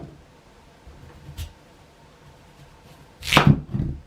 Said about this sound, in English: I found a bread knife is better cutting than even the sharpest knife.